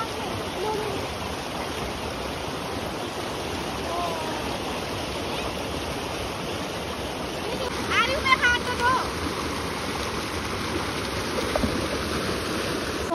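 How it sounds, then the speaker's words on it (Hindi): A rushing stream swollen by heavy rainfall in Himachal Pradesh, a steady loud broadband roar of water with brief voices faintly heard over it partway through. "पानी का फ्लो देखो कोई भी उड़ सकते है पानी में"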